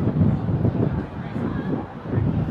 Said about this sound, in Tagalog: Ba't ang hangin dito?